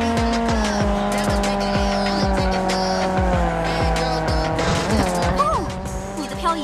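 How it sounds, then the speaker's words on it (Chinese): In the racing game Need for Speed Unbound, a car drifts through corners with loud, sustained tire squeal over a revving engine, pitch sliding and shifting as the slide ends, with rapid gear-change bursts; a voice speaks over it. "在合适的区域里漂移，过弯会更快。"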